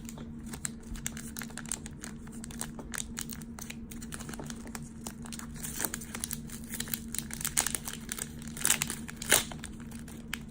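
A Force of Will trading card booster pack wrapper is torn and worked open, giving close, irregular crinkling and tearing crackles over about ten seconds, with no voice.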